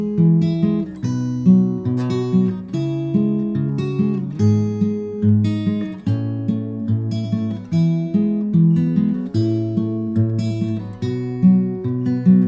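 Simplified fingerstyle acoustic guitar playing the verse of a song, steady plucked bass notes with sparse melody notes on top, close and clear with no talking.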